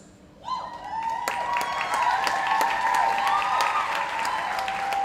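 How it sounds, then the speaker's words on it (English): Applause for sponsors at a performing arts awards ceremony, bursting in after a quiet moment and holding as a broad, steady clapping crowd, with ringing tonal sounds layered over it. "So I want you to applaud the sponsors."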